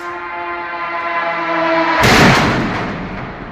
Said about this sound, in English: Residents of Kyiv recorded the moment when a Shahed drone struck their apartment building.